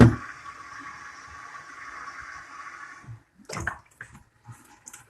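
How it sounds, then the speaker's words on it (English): Filtered water pours into a matcha drink in a steady, close stream lasting about three seconds, followed by a few faint clinks and small handling sounds. "I'm just going to take a little more filtered water"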